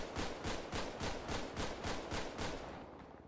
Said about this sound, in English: The key to load or reload is R, so I'll press that and load the weapon.